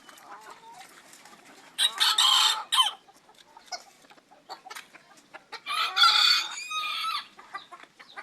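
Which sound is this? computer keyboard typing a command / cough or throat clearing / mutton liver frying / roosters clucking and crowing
roosters clucking and crowing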